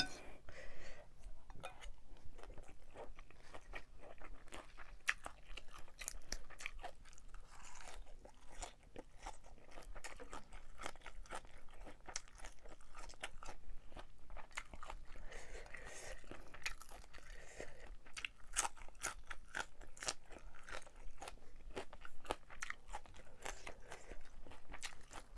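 Spicy Thai pork larb and fermented-fish papaya salad being eaten close up, with steady crunchy chewing and wet mouth sounds repeating throughout, fairly quiet and with almost no talk.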